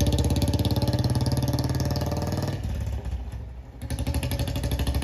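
A Royal Enfield Bullet motorcycle engine thumps steadily and loudly up close, with a rhythmic low beat that briefly dips and thins out before the pulsing thud picks back up.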